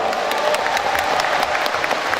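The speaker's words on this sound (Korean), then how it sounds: "수석 사무부총장을 맡은 전정희 의원님께도 커다란 박수 부탁드립니다" Dense, continuous clapping from a big audience echoes through an indoor university gymnasium at a political primary, steady and fairly loud with no talk over it.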